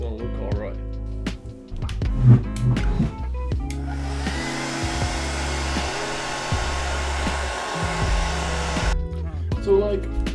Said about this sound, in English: So I'm going to try and hair dry it